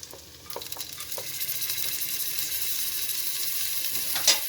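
Green chilies frying in hot oil in a pan for South Indian sambar, a steady crackling sizzle broken by a few scraping stirs of a utensil.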